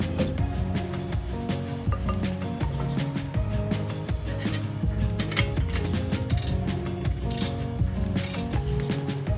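A 14mm ratchet wrench works steadily on car brake caliper bolts, a dense continuous run of rapid metallic clicking, close and loud with no talk over it.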